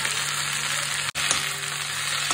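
Bottle gourd greens sizzle in a hot pan, a steady loud frying hiss throughout, broken by one brief dropout midway.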